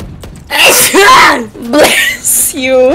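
A loud, close sneeze bursts out during a game of Valorant, with excited voices talking right around it.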